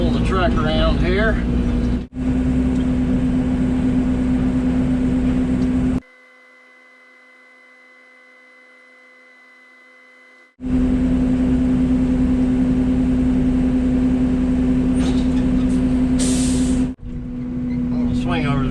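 An excavator loading junk into a truck drones loudly and steadily with a close engine hum, broken by one long silent gap before the same rumble resumes.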